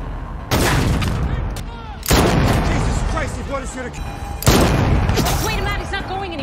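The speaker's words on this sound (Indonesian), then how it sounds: "Ishak yang melihat ada senjata nganggur langsung mengambilnya dan mencoba untuk balas menembak." Gunfire in a film sounds as three loud bursts of shots and booms, each followed by echoing rattles, with speech underneath.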